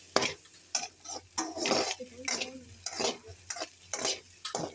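Egg stir-fried in a tablespoon of oil in a pan, Tamil-style egg poriyal: repeated rhythmic spatula scrapes and stirs over a continuous sizzle, close and fairly distinct, with no speech.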